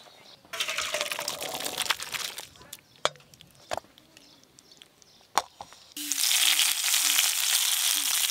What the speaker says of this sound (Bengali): এবার ছোলার তরকারিটা ঢেলে নেব, তারপরে তরকা করে নেব